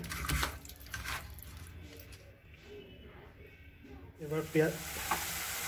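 Onions sizzle in a hot pan while chicken curry is being made, a steady crackling fry with occasional louder bursts of spatter, close up and moderately quiet, with faint voice-like sounds underneath.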